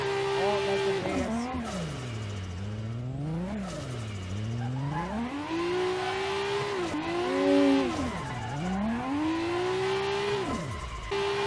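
A Nissan 180SX drifts in Assetto Corsa, its engine rising and falling continuously through revs with tire squeal and skidding, loud and close throughout, with a voice talking over it.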